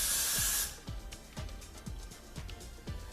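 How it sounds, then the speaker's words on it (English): An aerosol can sprays a synthetic wig in one loud hissing burst lasting over half a second, followed by a series of soft thumps and handling noises close by. "that was one good spray"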